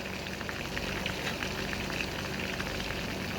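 Chilies frying in hot oil in a pan, a dense, steady crackling sizzle that is close and continuous, with no voices.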